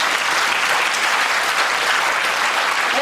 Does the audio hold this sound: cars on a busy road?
no